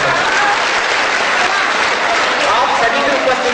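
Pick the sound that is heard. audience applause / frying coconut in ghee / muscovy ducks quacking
audience applause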